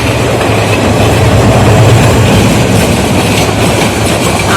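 A train rolls past on the rail line, a loud, steady rumble with rhythmic wheel clatter filling the whole stretch, close by and without speech.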